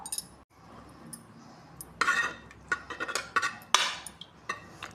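A spoon mixes coriander into cooked dal with bottle gourd in a pressure cooker, giving repeated metallic clinks and scrapes against the pot in close, irregular bursts.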